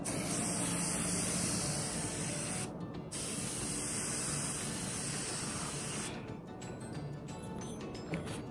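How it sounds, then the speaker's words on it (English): Setting spray misted from a pump bottle, a steady close hiss running almost the whole time with two brief pauses between bursts. "I'm taking this setting spray and I'm taking it"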